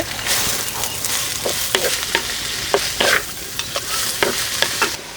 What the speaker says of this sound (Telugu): ఈ ఉల్లిపాయలు బాగా బ్రౌన్ అయ్యే వరకు కలుపుకుంటూనే ఉండాలండి.